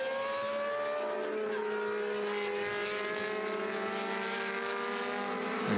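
Historic race cars racing at the Le Mans Classic: several engines drone and whine at steady high revs, layered and continuous as the cars pass, loud and fairly close, with no talking.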